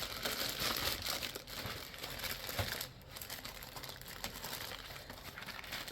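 Plastic packaging of an Airfix Boulton Paul Defiant Mk I 1:72 scale model airplane kit crinkles and crackles steadily as it is opened, close and continuous with a few sharper rustles.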